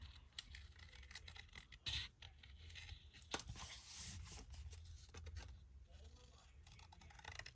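Scissors snip and rustle through paper while a heart shape is cut out for a Z-fold craft folio, soft irregular cuts and scraping heard close and quiet.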